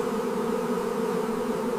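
Honey bees swarm around an opened hive with a steady, dense buzz of countless wings, close and continuous without any other sounds.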